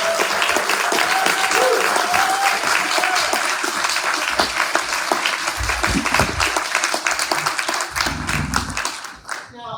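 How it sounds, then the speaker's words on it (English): A crowd at an annual community meeting of a Black cultural center in Athens, Ohio gives loud, sustained applause. The dense clapping carries on for several seconds with some voices underneath, then tapers off at the end. "So give these guys a great round of applause"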